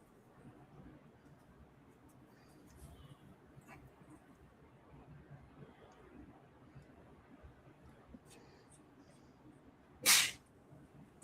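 One sharp sneeze bursts out near the end after a long stretch of quiet, low room noise with faint scattered ticks.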